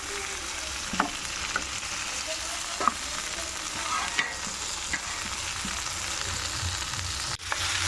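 Prawns frying in a pan, a continuous close sizzle with scattered stirring taps and clatters, no voices.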